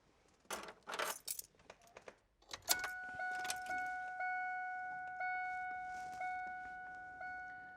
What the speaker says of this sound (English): in order to pull the data out of the computer, we have to key the vehicle on, so we're going to do that.